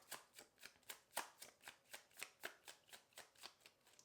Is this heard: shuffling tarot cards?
yes